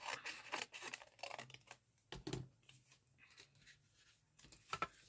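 Scissors cut a piece of card for a pop-up step front panel card, making a quiet series of short snipping and crisp rustling sounds in a calm, close setting.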